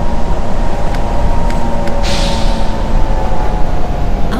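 A subway train rolling along in the U-Bahn Simulator game, a loud steady rumble of wheels and motor throughout, with a brief hiss partway through.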